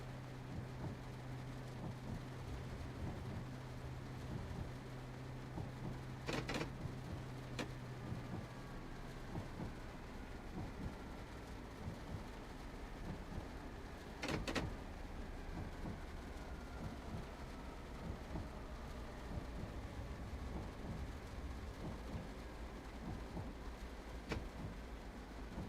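Steady rain hisses throughout an evening train run in Train Sim World 6. It holds at a constant level with no talk, broken by a few brief louder crackles.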